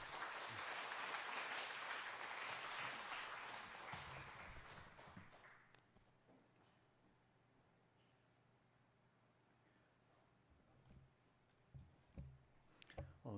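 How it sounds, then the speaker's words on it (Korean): A church congregation gives a loud, sustained round of applause to welcome the preacher at a Sunday service, dense clapping for several seconds that thins out and fades to a quiet room with a few faint knocks. "감사하는 마음으로 큰 박수로 환영하겠습니다"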